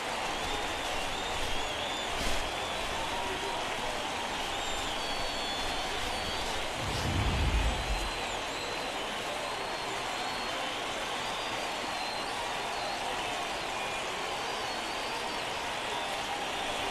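A home crowd in the MLB 16 baseball game, a steady wash of distant cheering and murmur that hardly changes, with a low swell partway through.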